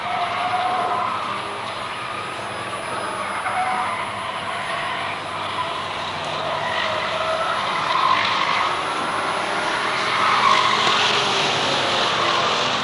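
Pure stock cars in a 1992 women's 15-lap race at Waterford Speedbowl roar steadily around the oval, a continuous droning engine noise that swells and fades slightly as the pack circles, heard from the stands.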